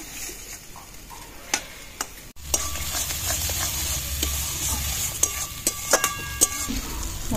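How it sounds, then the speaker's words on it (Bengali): Spice paste and tomatoes with a little water fry in a pan for a home-style rohu fish curry, a steady close sizzle with scattered clicks and scrapes of a spatula stirring, louder after a brief pause. "একটু জল দিয়ে মশলাটা ভালো করে কষিয়ে নেবো।"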